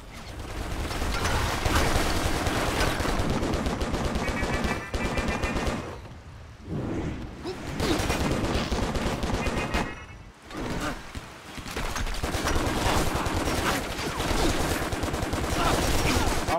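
Heavy gunfire in the Stranglehold video game, sustained loud bursts of automatic shooting that run almost continuously with two brief pauses, under occasional game sounds.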